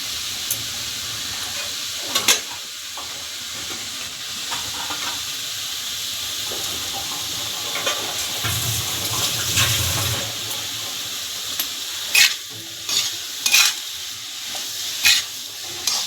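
Fish curry fries in its own fish oil, with no added oil, after salt is stirred in. A continuous loud sizzle runs underneath, with a surge of bubbling midway and several sharp spoon scrapes and knocks toward the end.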